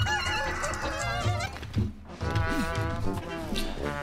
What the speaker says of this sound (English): The fucking chickens just screaming in my fucking headset.